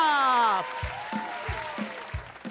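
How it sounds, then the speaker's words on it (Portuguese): Applause from a crowd at a live televised anniversary event outside a wholesale store, brief and fairly steady, mixed with a voice and a few low thumps. "Salva de palmas."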